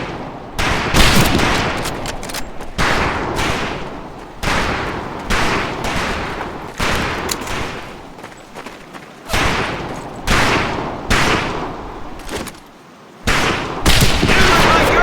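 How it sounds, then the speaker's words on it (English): Gunfire rings out in Medal of Honor 2, with repeated loud sharp shots and bursts in irregular clusters and brief pauses between them, close and dominant throughout. "Colin, Gage, we have 2 scoped rifles available for use today"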